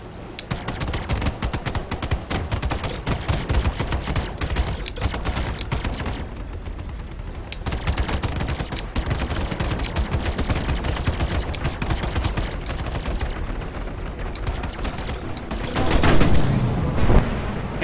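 Rapid spaceship gunfire in the Star Citizen video game, dense bursts of automatic shots streaming for many seconds with brief pauses, and a louder blast near the end.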